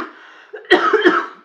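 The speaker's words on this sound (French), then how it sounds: "je suis essoufflée, je tousse, mais j'ai la grippe." A woman with the flu and out of breath coughs several times in a quick, harsh burst, loud and close, after a brief breathy lead-in.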